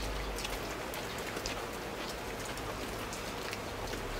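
Rain falls on the eaves in front of a house, a soft, steady patter of drops close by with scattered sharper taps on the surface, and no one talks.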